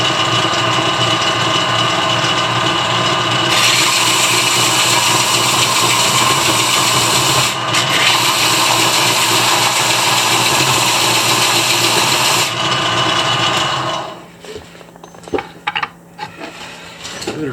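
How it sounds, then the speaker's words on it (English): A loud power sander drones steadily on a carved wooden fish, a close continuous whine and rumble that cuts off near the end, leaving light handling knocks. "A little bit of sanding on this."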